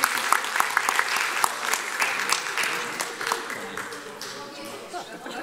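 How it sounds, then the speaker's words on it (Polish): An audience at a school ceremony for ambassador titles claps at length, with a dense, fairly loud patter of many hands that slowly fades toward the end. "Raz jeszcze brawa. Brawa dla was."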